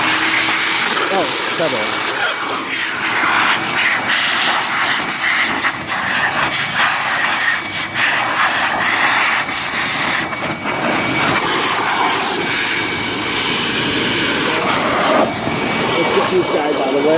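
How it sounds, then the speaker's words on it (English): A loud air blower runs steadily in a garage during work on a GY6 scooter top case mount, a constant roaring whoosh that fills the whole stretch while a person speaks briefly. "Bring back our blower."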